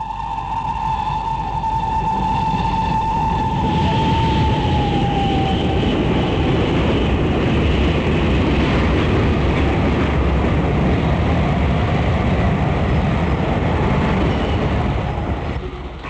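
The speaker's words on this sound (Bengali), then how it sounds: "ছুটতে ছুটতে ট্রেনখানা দম ফুরিয়ে গেল হঠাৎ" A train rumbles along steadily with a loud, continuous roar and rattle, a high squealing tone fading out over the first few seconds, then keeps rolling loudly to the end without coming to a clear stop.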